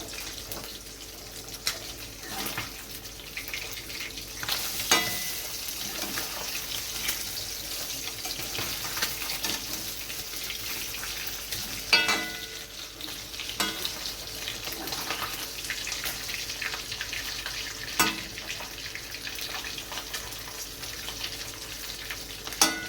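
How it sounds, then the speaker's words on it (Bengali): Hilsa fish pieces frying in a pan crackle continuously at moderate loudness, with occasional scraping and clatter as the fish are turned, and no talking. "এক পিঠ উল্টে দিলাম, আর এক পিঠ ভাজা হবে।"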